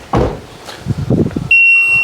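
A crash-damaged Cat N salvage car sounds a sustained high electronic beep that starts partway through, following a few knocks and handling thumps nearby.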